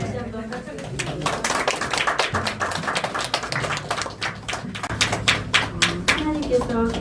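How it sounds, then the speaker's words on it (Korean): Congregation at a church dedication service claps together, a steady run of close hand claps mixed with voices and movement around the room. "다시 한번 박수 드립니다."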